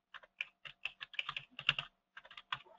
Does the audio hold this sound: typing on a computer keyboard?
yes